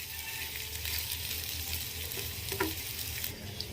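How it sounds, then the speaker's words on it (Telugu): Okra pieces frying in a pan on a medium flame, giving a steady, close sizzle with broad crackling hiss and a few light stirring clinks, with no talking. "పెట్టుకున్న బెండకాయ ముక్కల్ని యాడ్ చేసి స్టవ్ని మీడియం ఫ్లేమ్లో పెట్టి మంచిగా ఫ్రై చేసుకుందాము."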